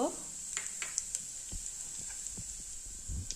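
Mustard seeds, cumin and asafoetida sizzle in hot oil in a kadhai, a steady bright hiss with a few soft pops and utensil clinks, close and moderately loud.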